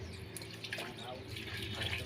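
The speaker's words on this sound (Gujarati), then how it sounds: "તમે જોઈ શકો છો આ પ્રેશર છે, જાદુ પ્રેશર હોય છે કે 1000 ફૂટથી પાણી કાઢી શકે" Water gushes under pressure from a small submersible electric pump, a steady hissing rush close by, with someone talking over it.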